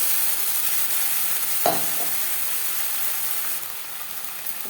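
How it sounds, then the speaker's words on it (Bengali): Fried onions are stirred in a pan with ginger paste, green chilli paste and an onion-tomato-chilli paste for rui fish curry, a steady sizzle broken by a couple of spatula scrapes, close and without talking. "পেঁয়াজের সাথে মশলা বেশ ভালো করে মিক্স করে দেবো"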